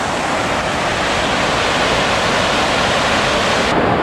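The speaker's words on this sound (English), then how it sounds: "We are at the head of the river where the spring comes out of the mountain." Spring water gushing loudly out of a mountainside at the head of a river, a dense, constant close roar of rushing water with no break and no voices.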